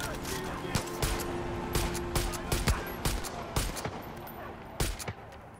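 Rapid gunshots ring out in Far Cry 5, sharp cracks arriving in irregular bursts over a steady background, fairly close and loud.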